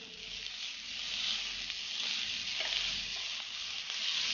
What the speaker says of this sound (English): Once it is nicely brown, we will add our chopped bhatua.